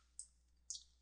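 Two crisp computer mouse clicks half a second apart, close and isolated against a quiet background while working in a web form builder.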